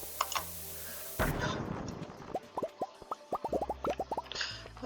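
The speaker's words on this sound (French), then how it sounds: "Grosse bombe là." Bomb blast in the Stardew Valley video game, one sharp burst followed by a rapid scatter of small popping clicks as debris falls, heard alone without talk.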